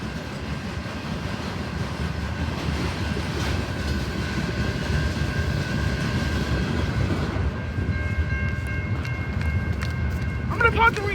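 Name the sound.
shoreline freight train passing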